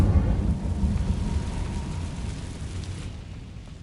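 Casting the Incendio fire spell in Hogwarts Legacy sets off a loud, rumbling fiery burst that stays strong and slowly eases over about four seconds.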